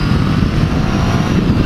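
A Triumph Tiger 800 motorcycle engine growls steadily while riding, a close, continuous low rumble that holds at an even level throughout without any talk over it.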